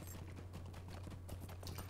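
A horse trots along in The Lord of the Rings Online, its hooves making a quiet, steady clip-clop beat over a low constant hum, with no voices.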